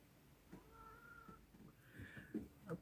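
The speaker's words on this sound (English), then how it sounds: "there's a random cat meowing in the background" A cat meows in the background, quiet and distant: a long drawn-out meow followed by a second rising one and a few shorter chirps, in an otherwise quiet room.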